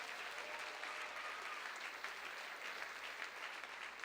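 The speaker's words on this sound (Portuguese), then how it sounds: "Vamos aplaudi-lo outra vez" A church congregation claps in a steady, dense wash of applause that holds evenly for several seconds, fairly soft and distant with no voices over it.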